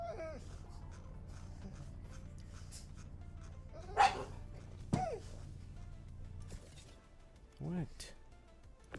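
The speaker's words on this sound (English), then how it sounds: "Who's a big dog? What is a big dog?" A dog barks a few times nearby, with short sharp yips and a whimper, while someone talks over a constant low background hum.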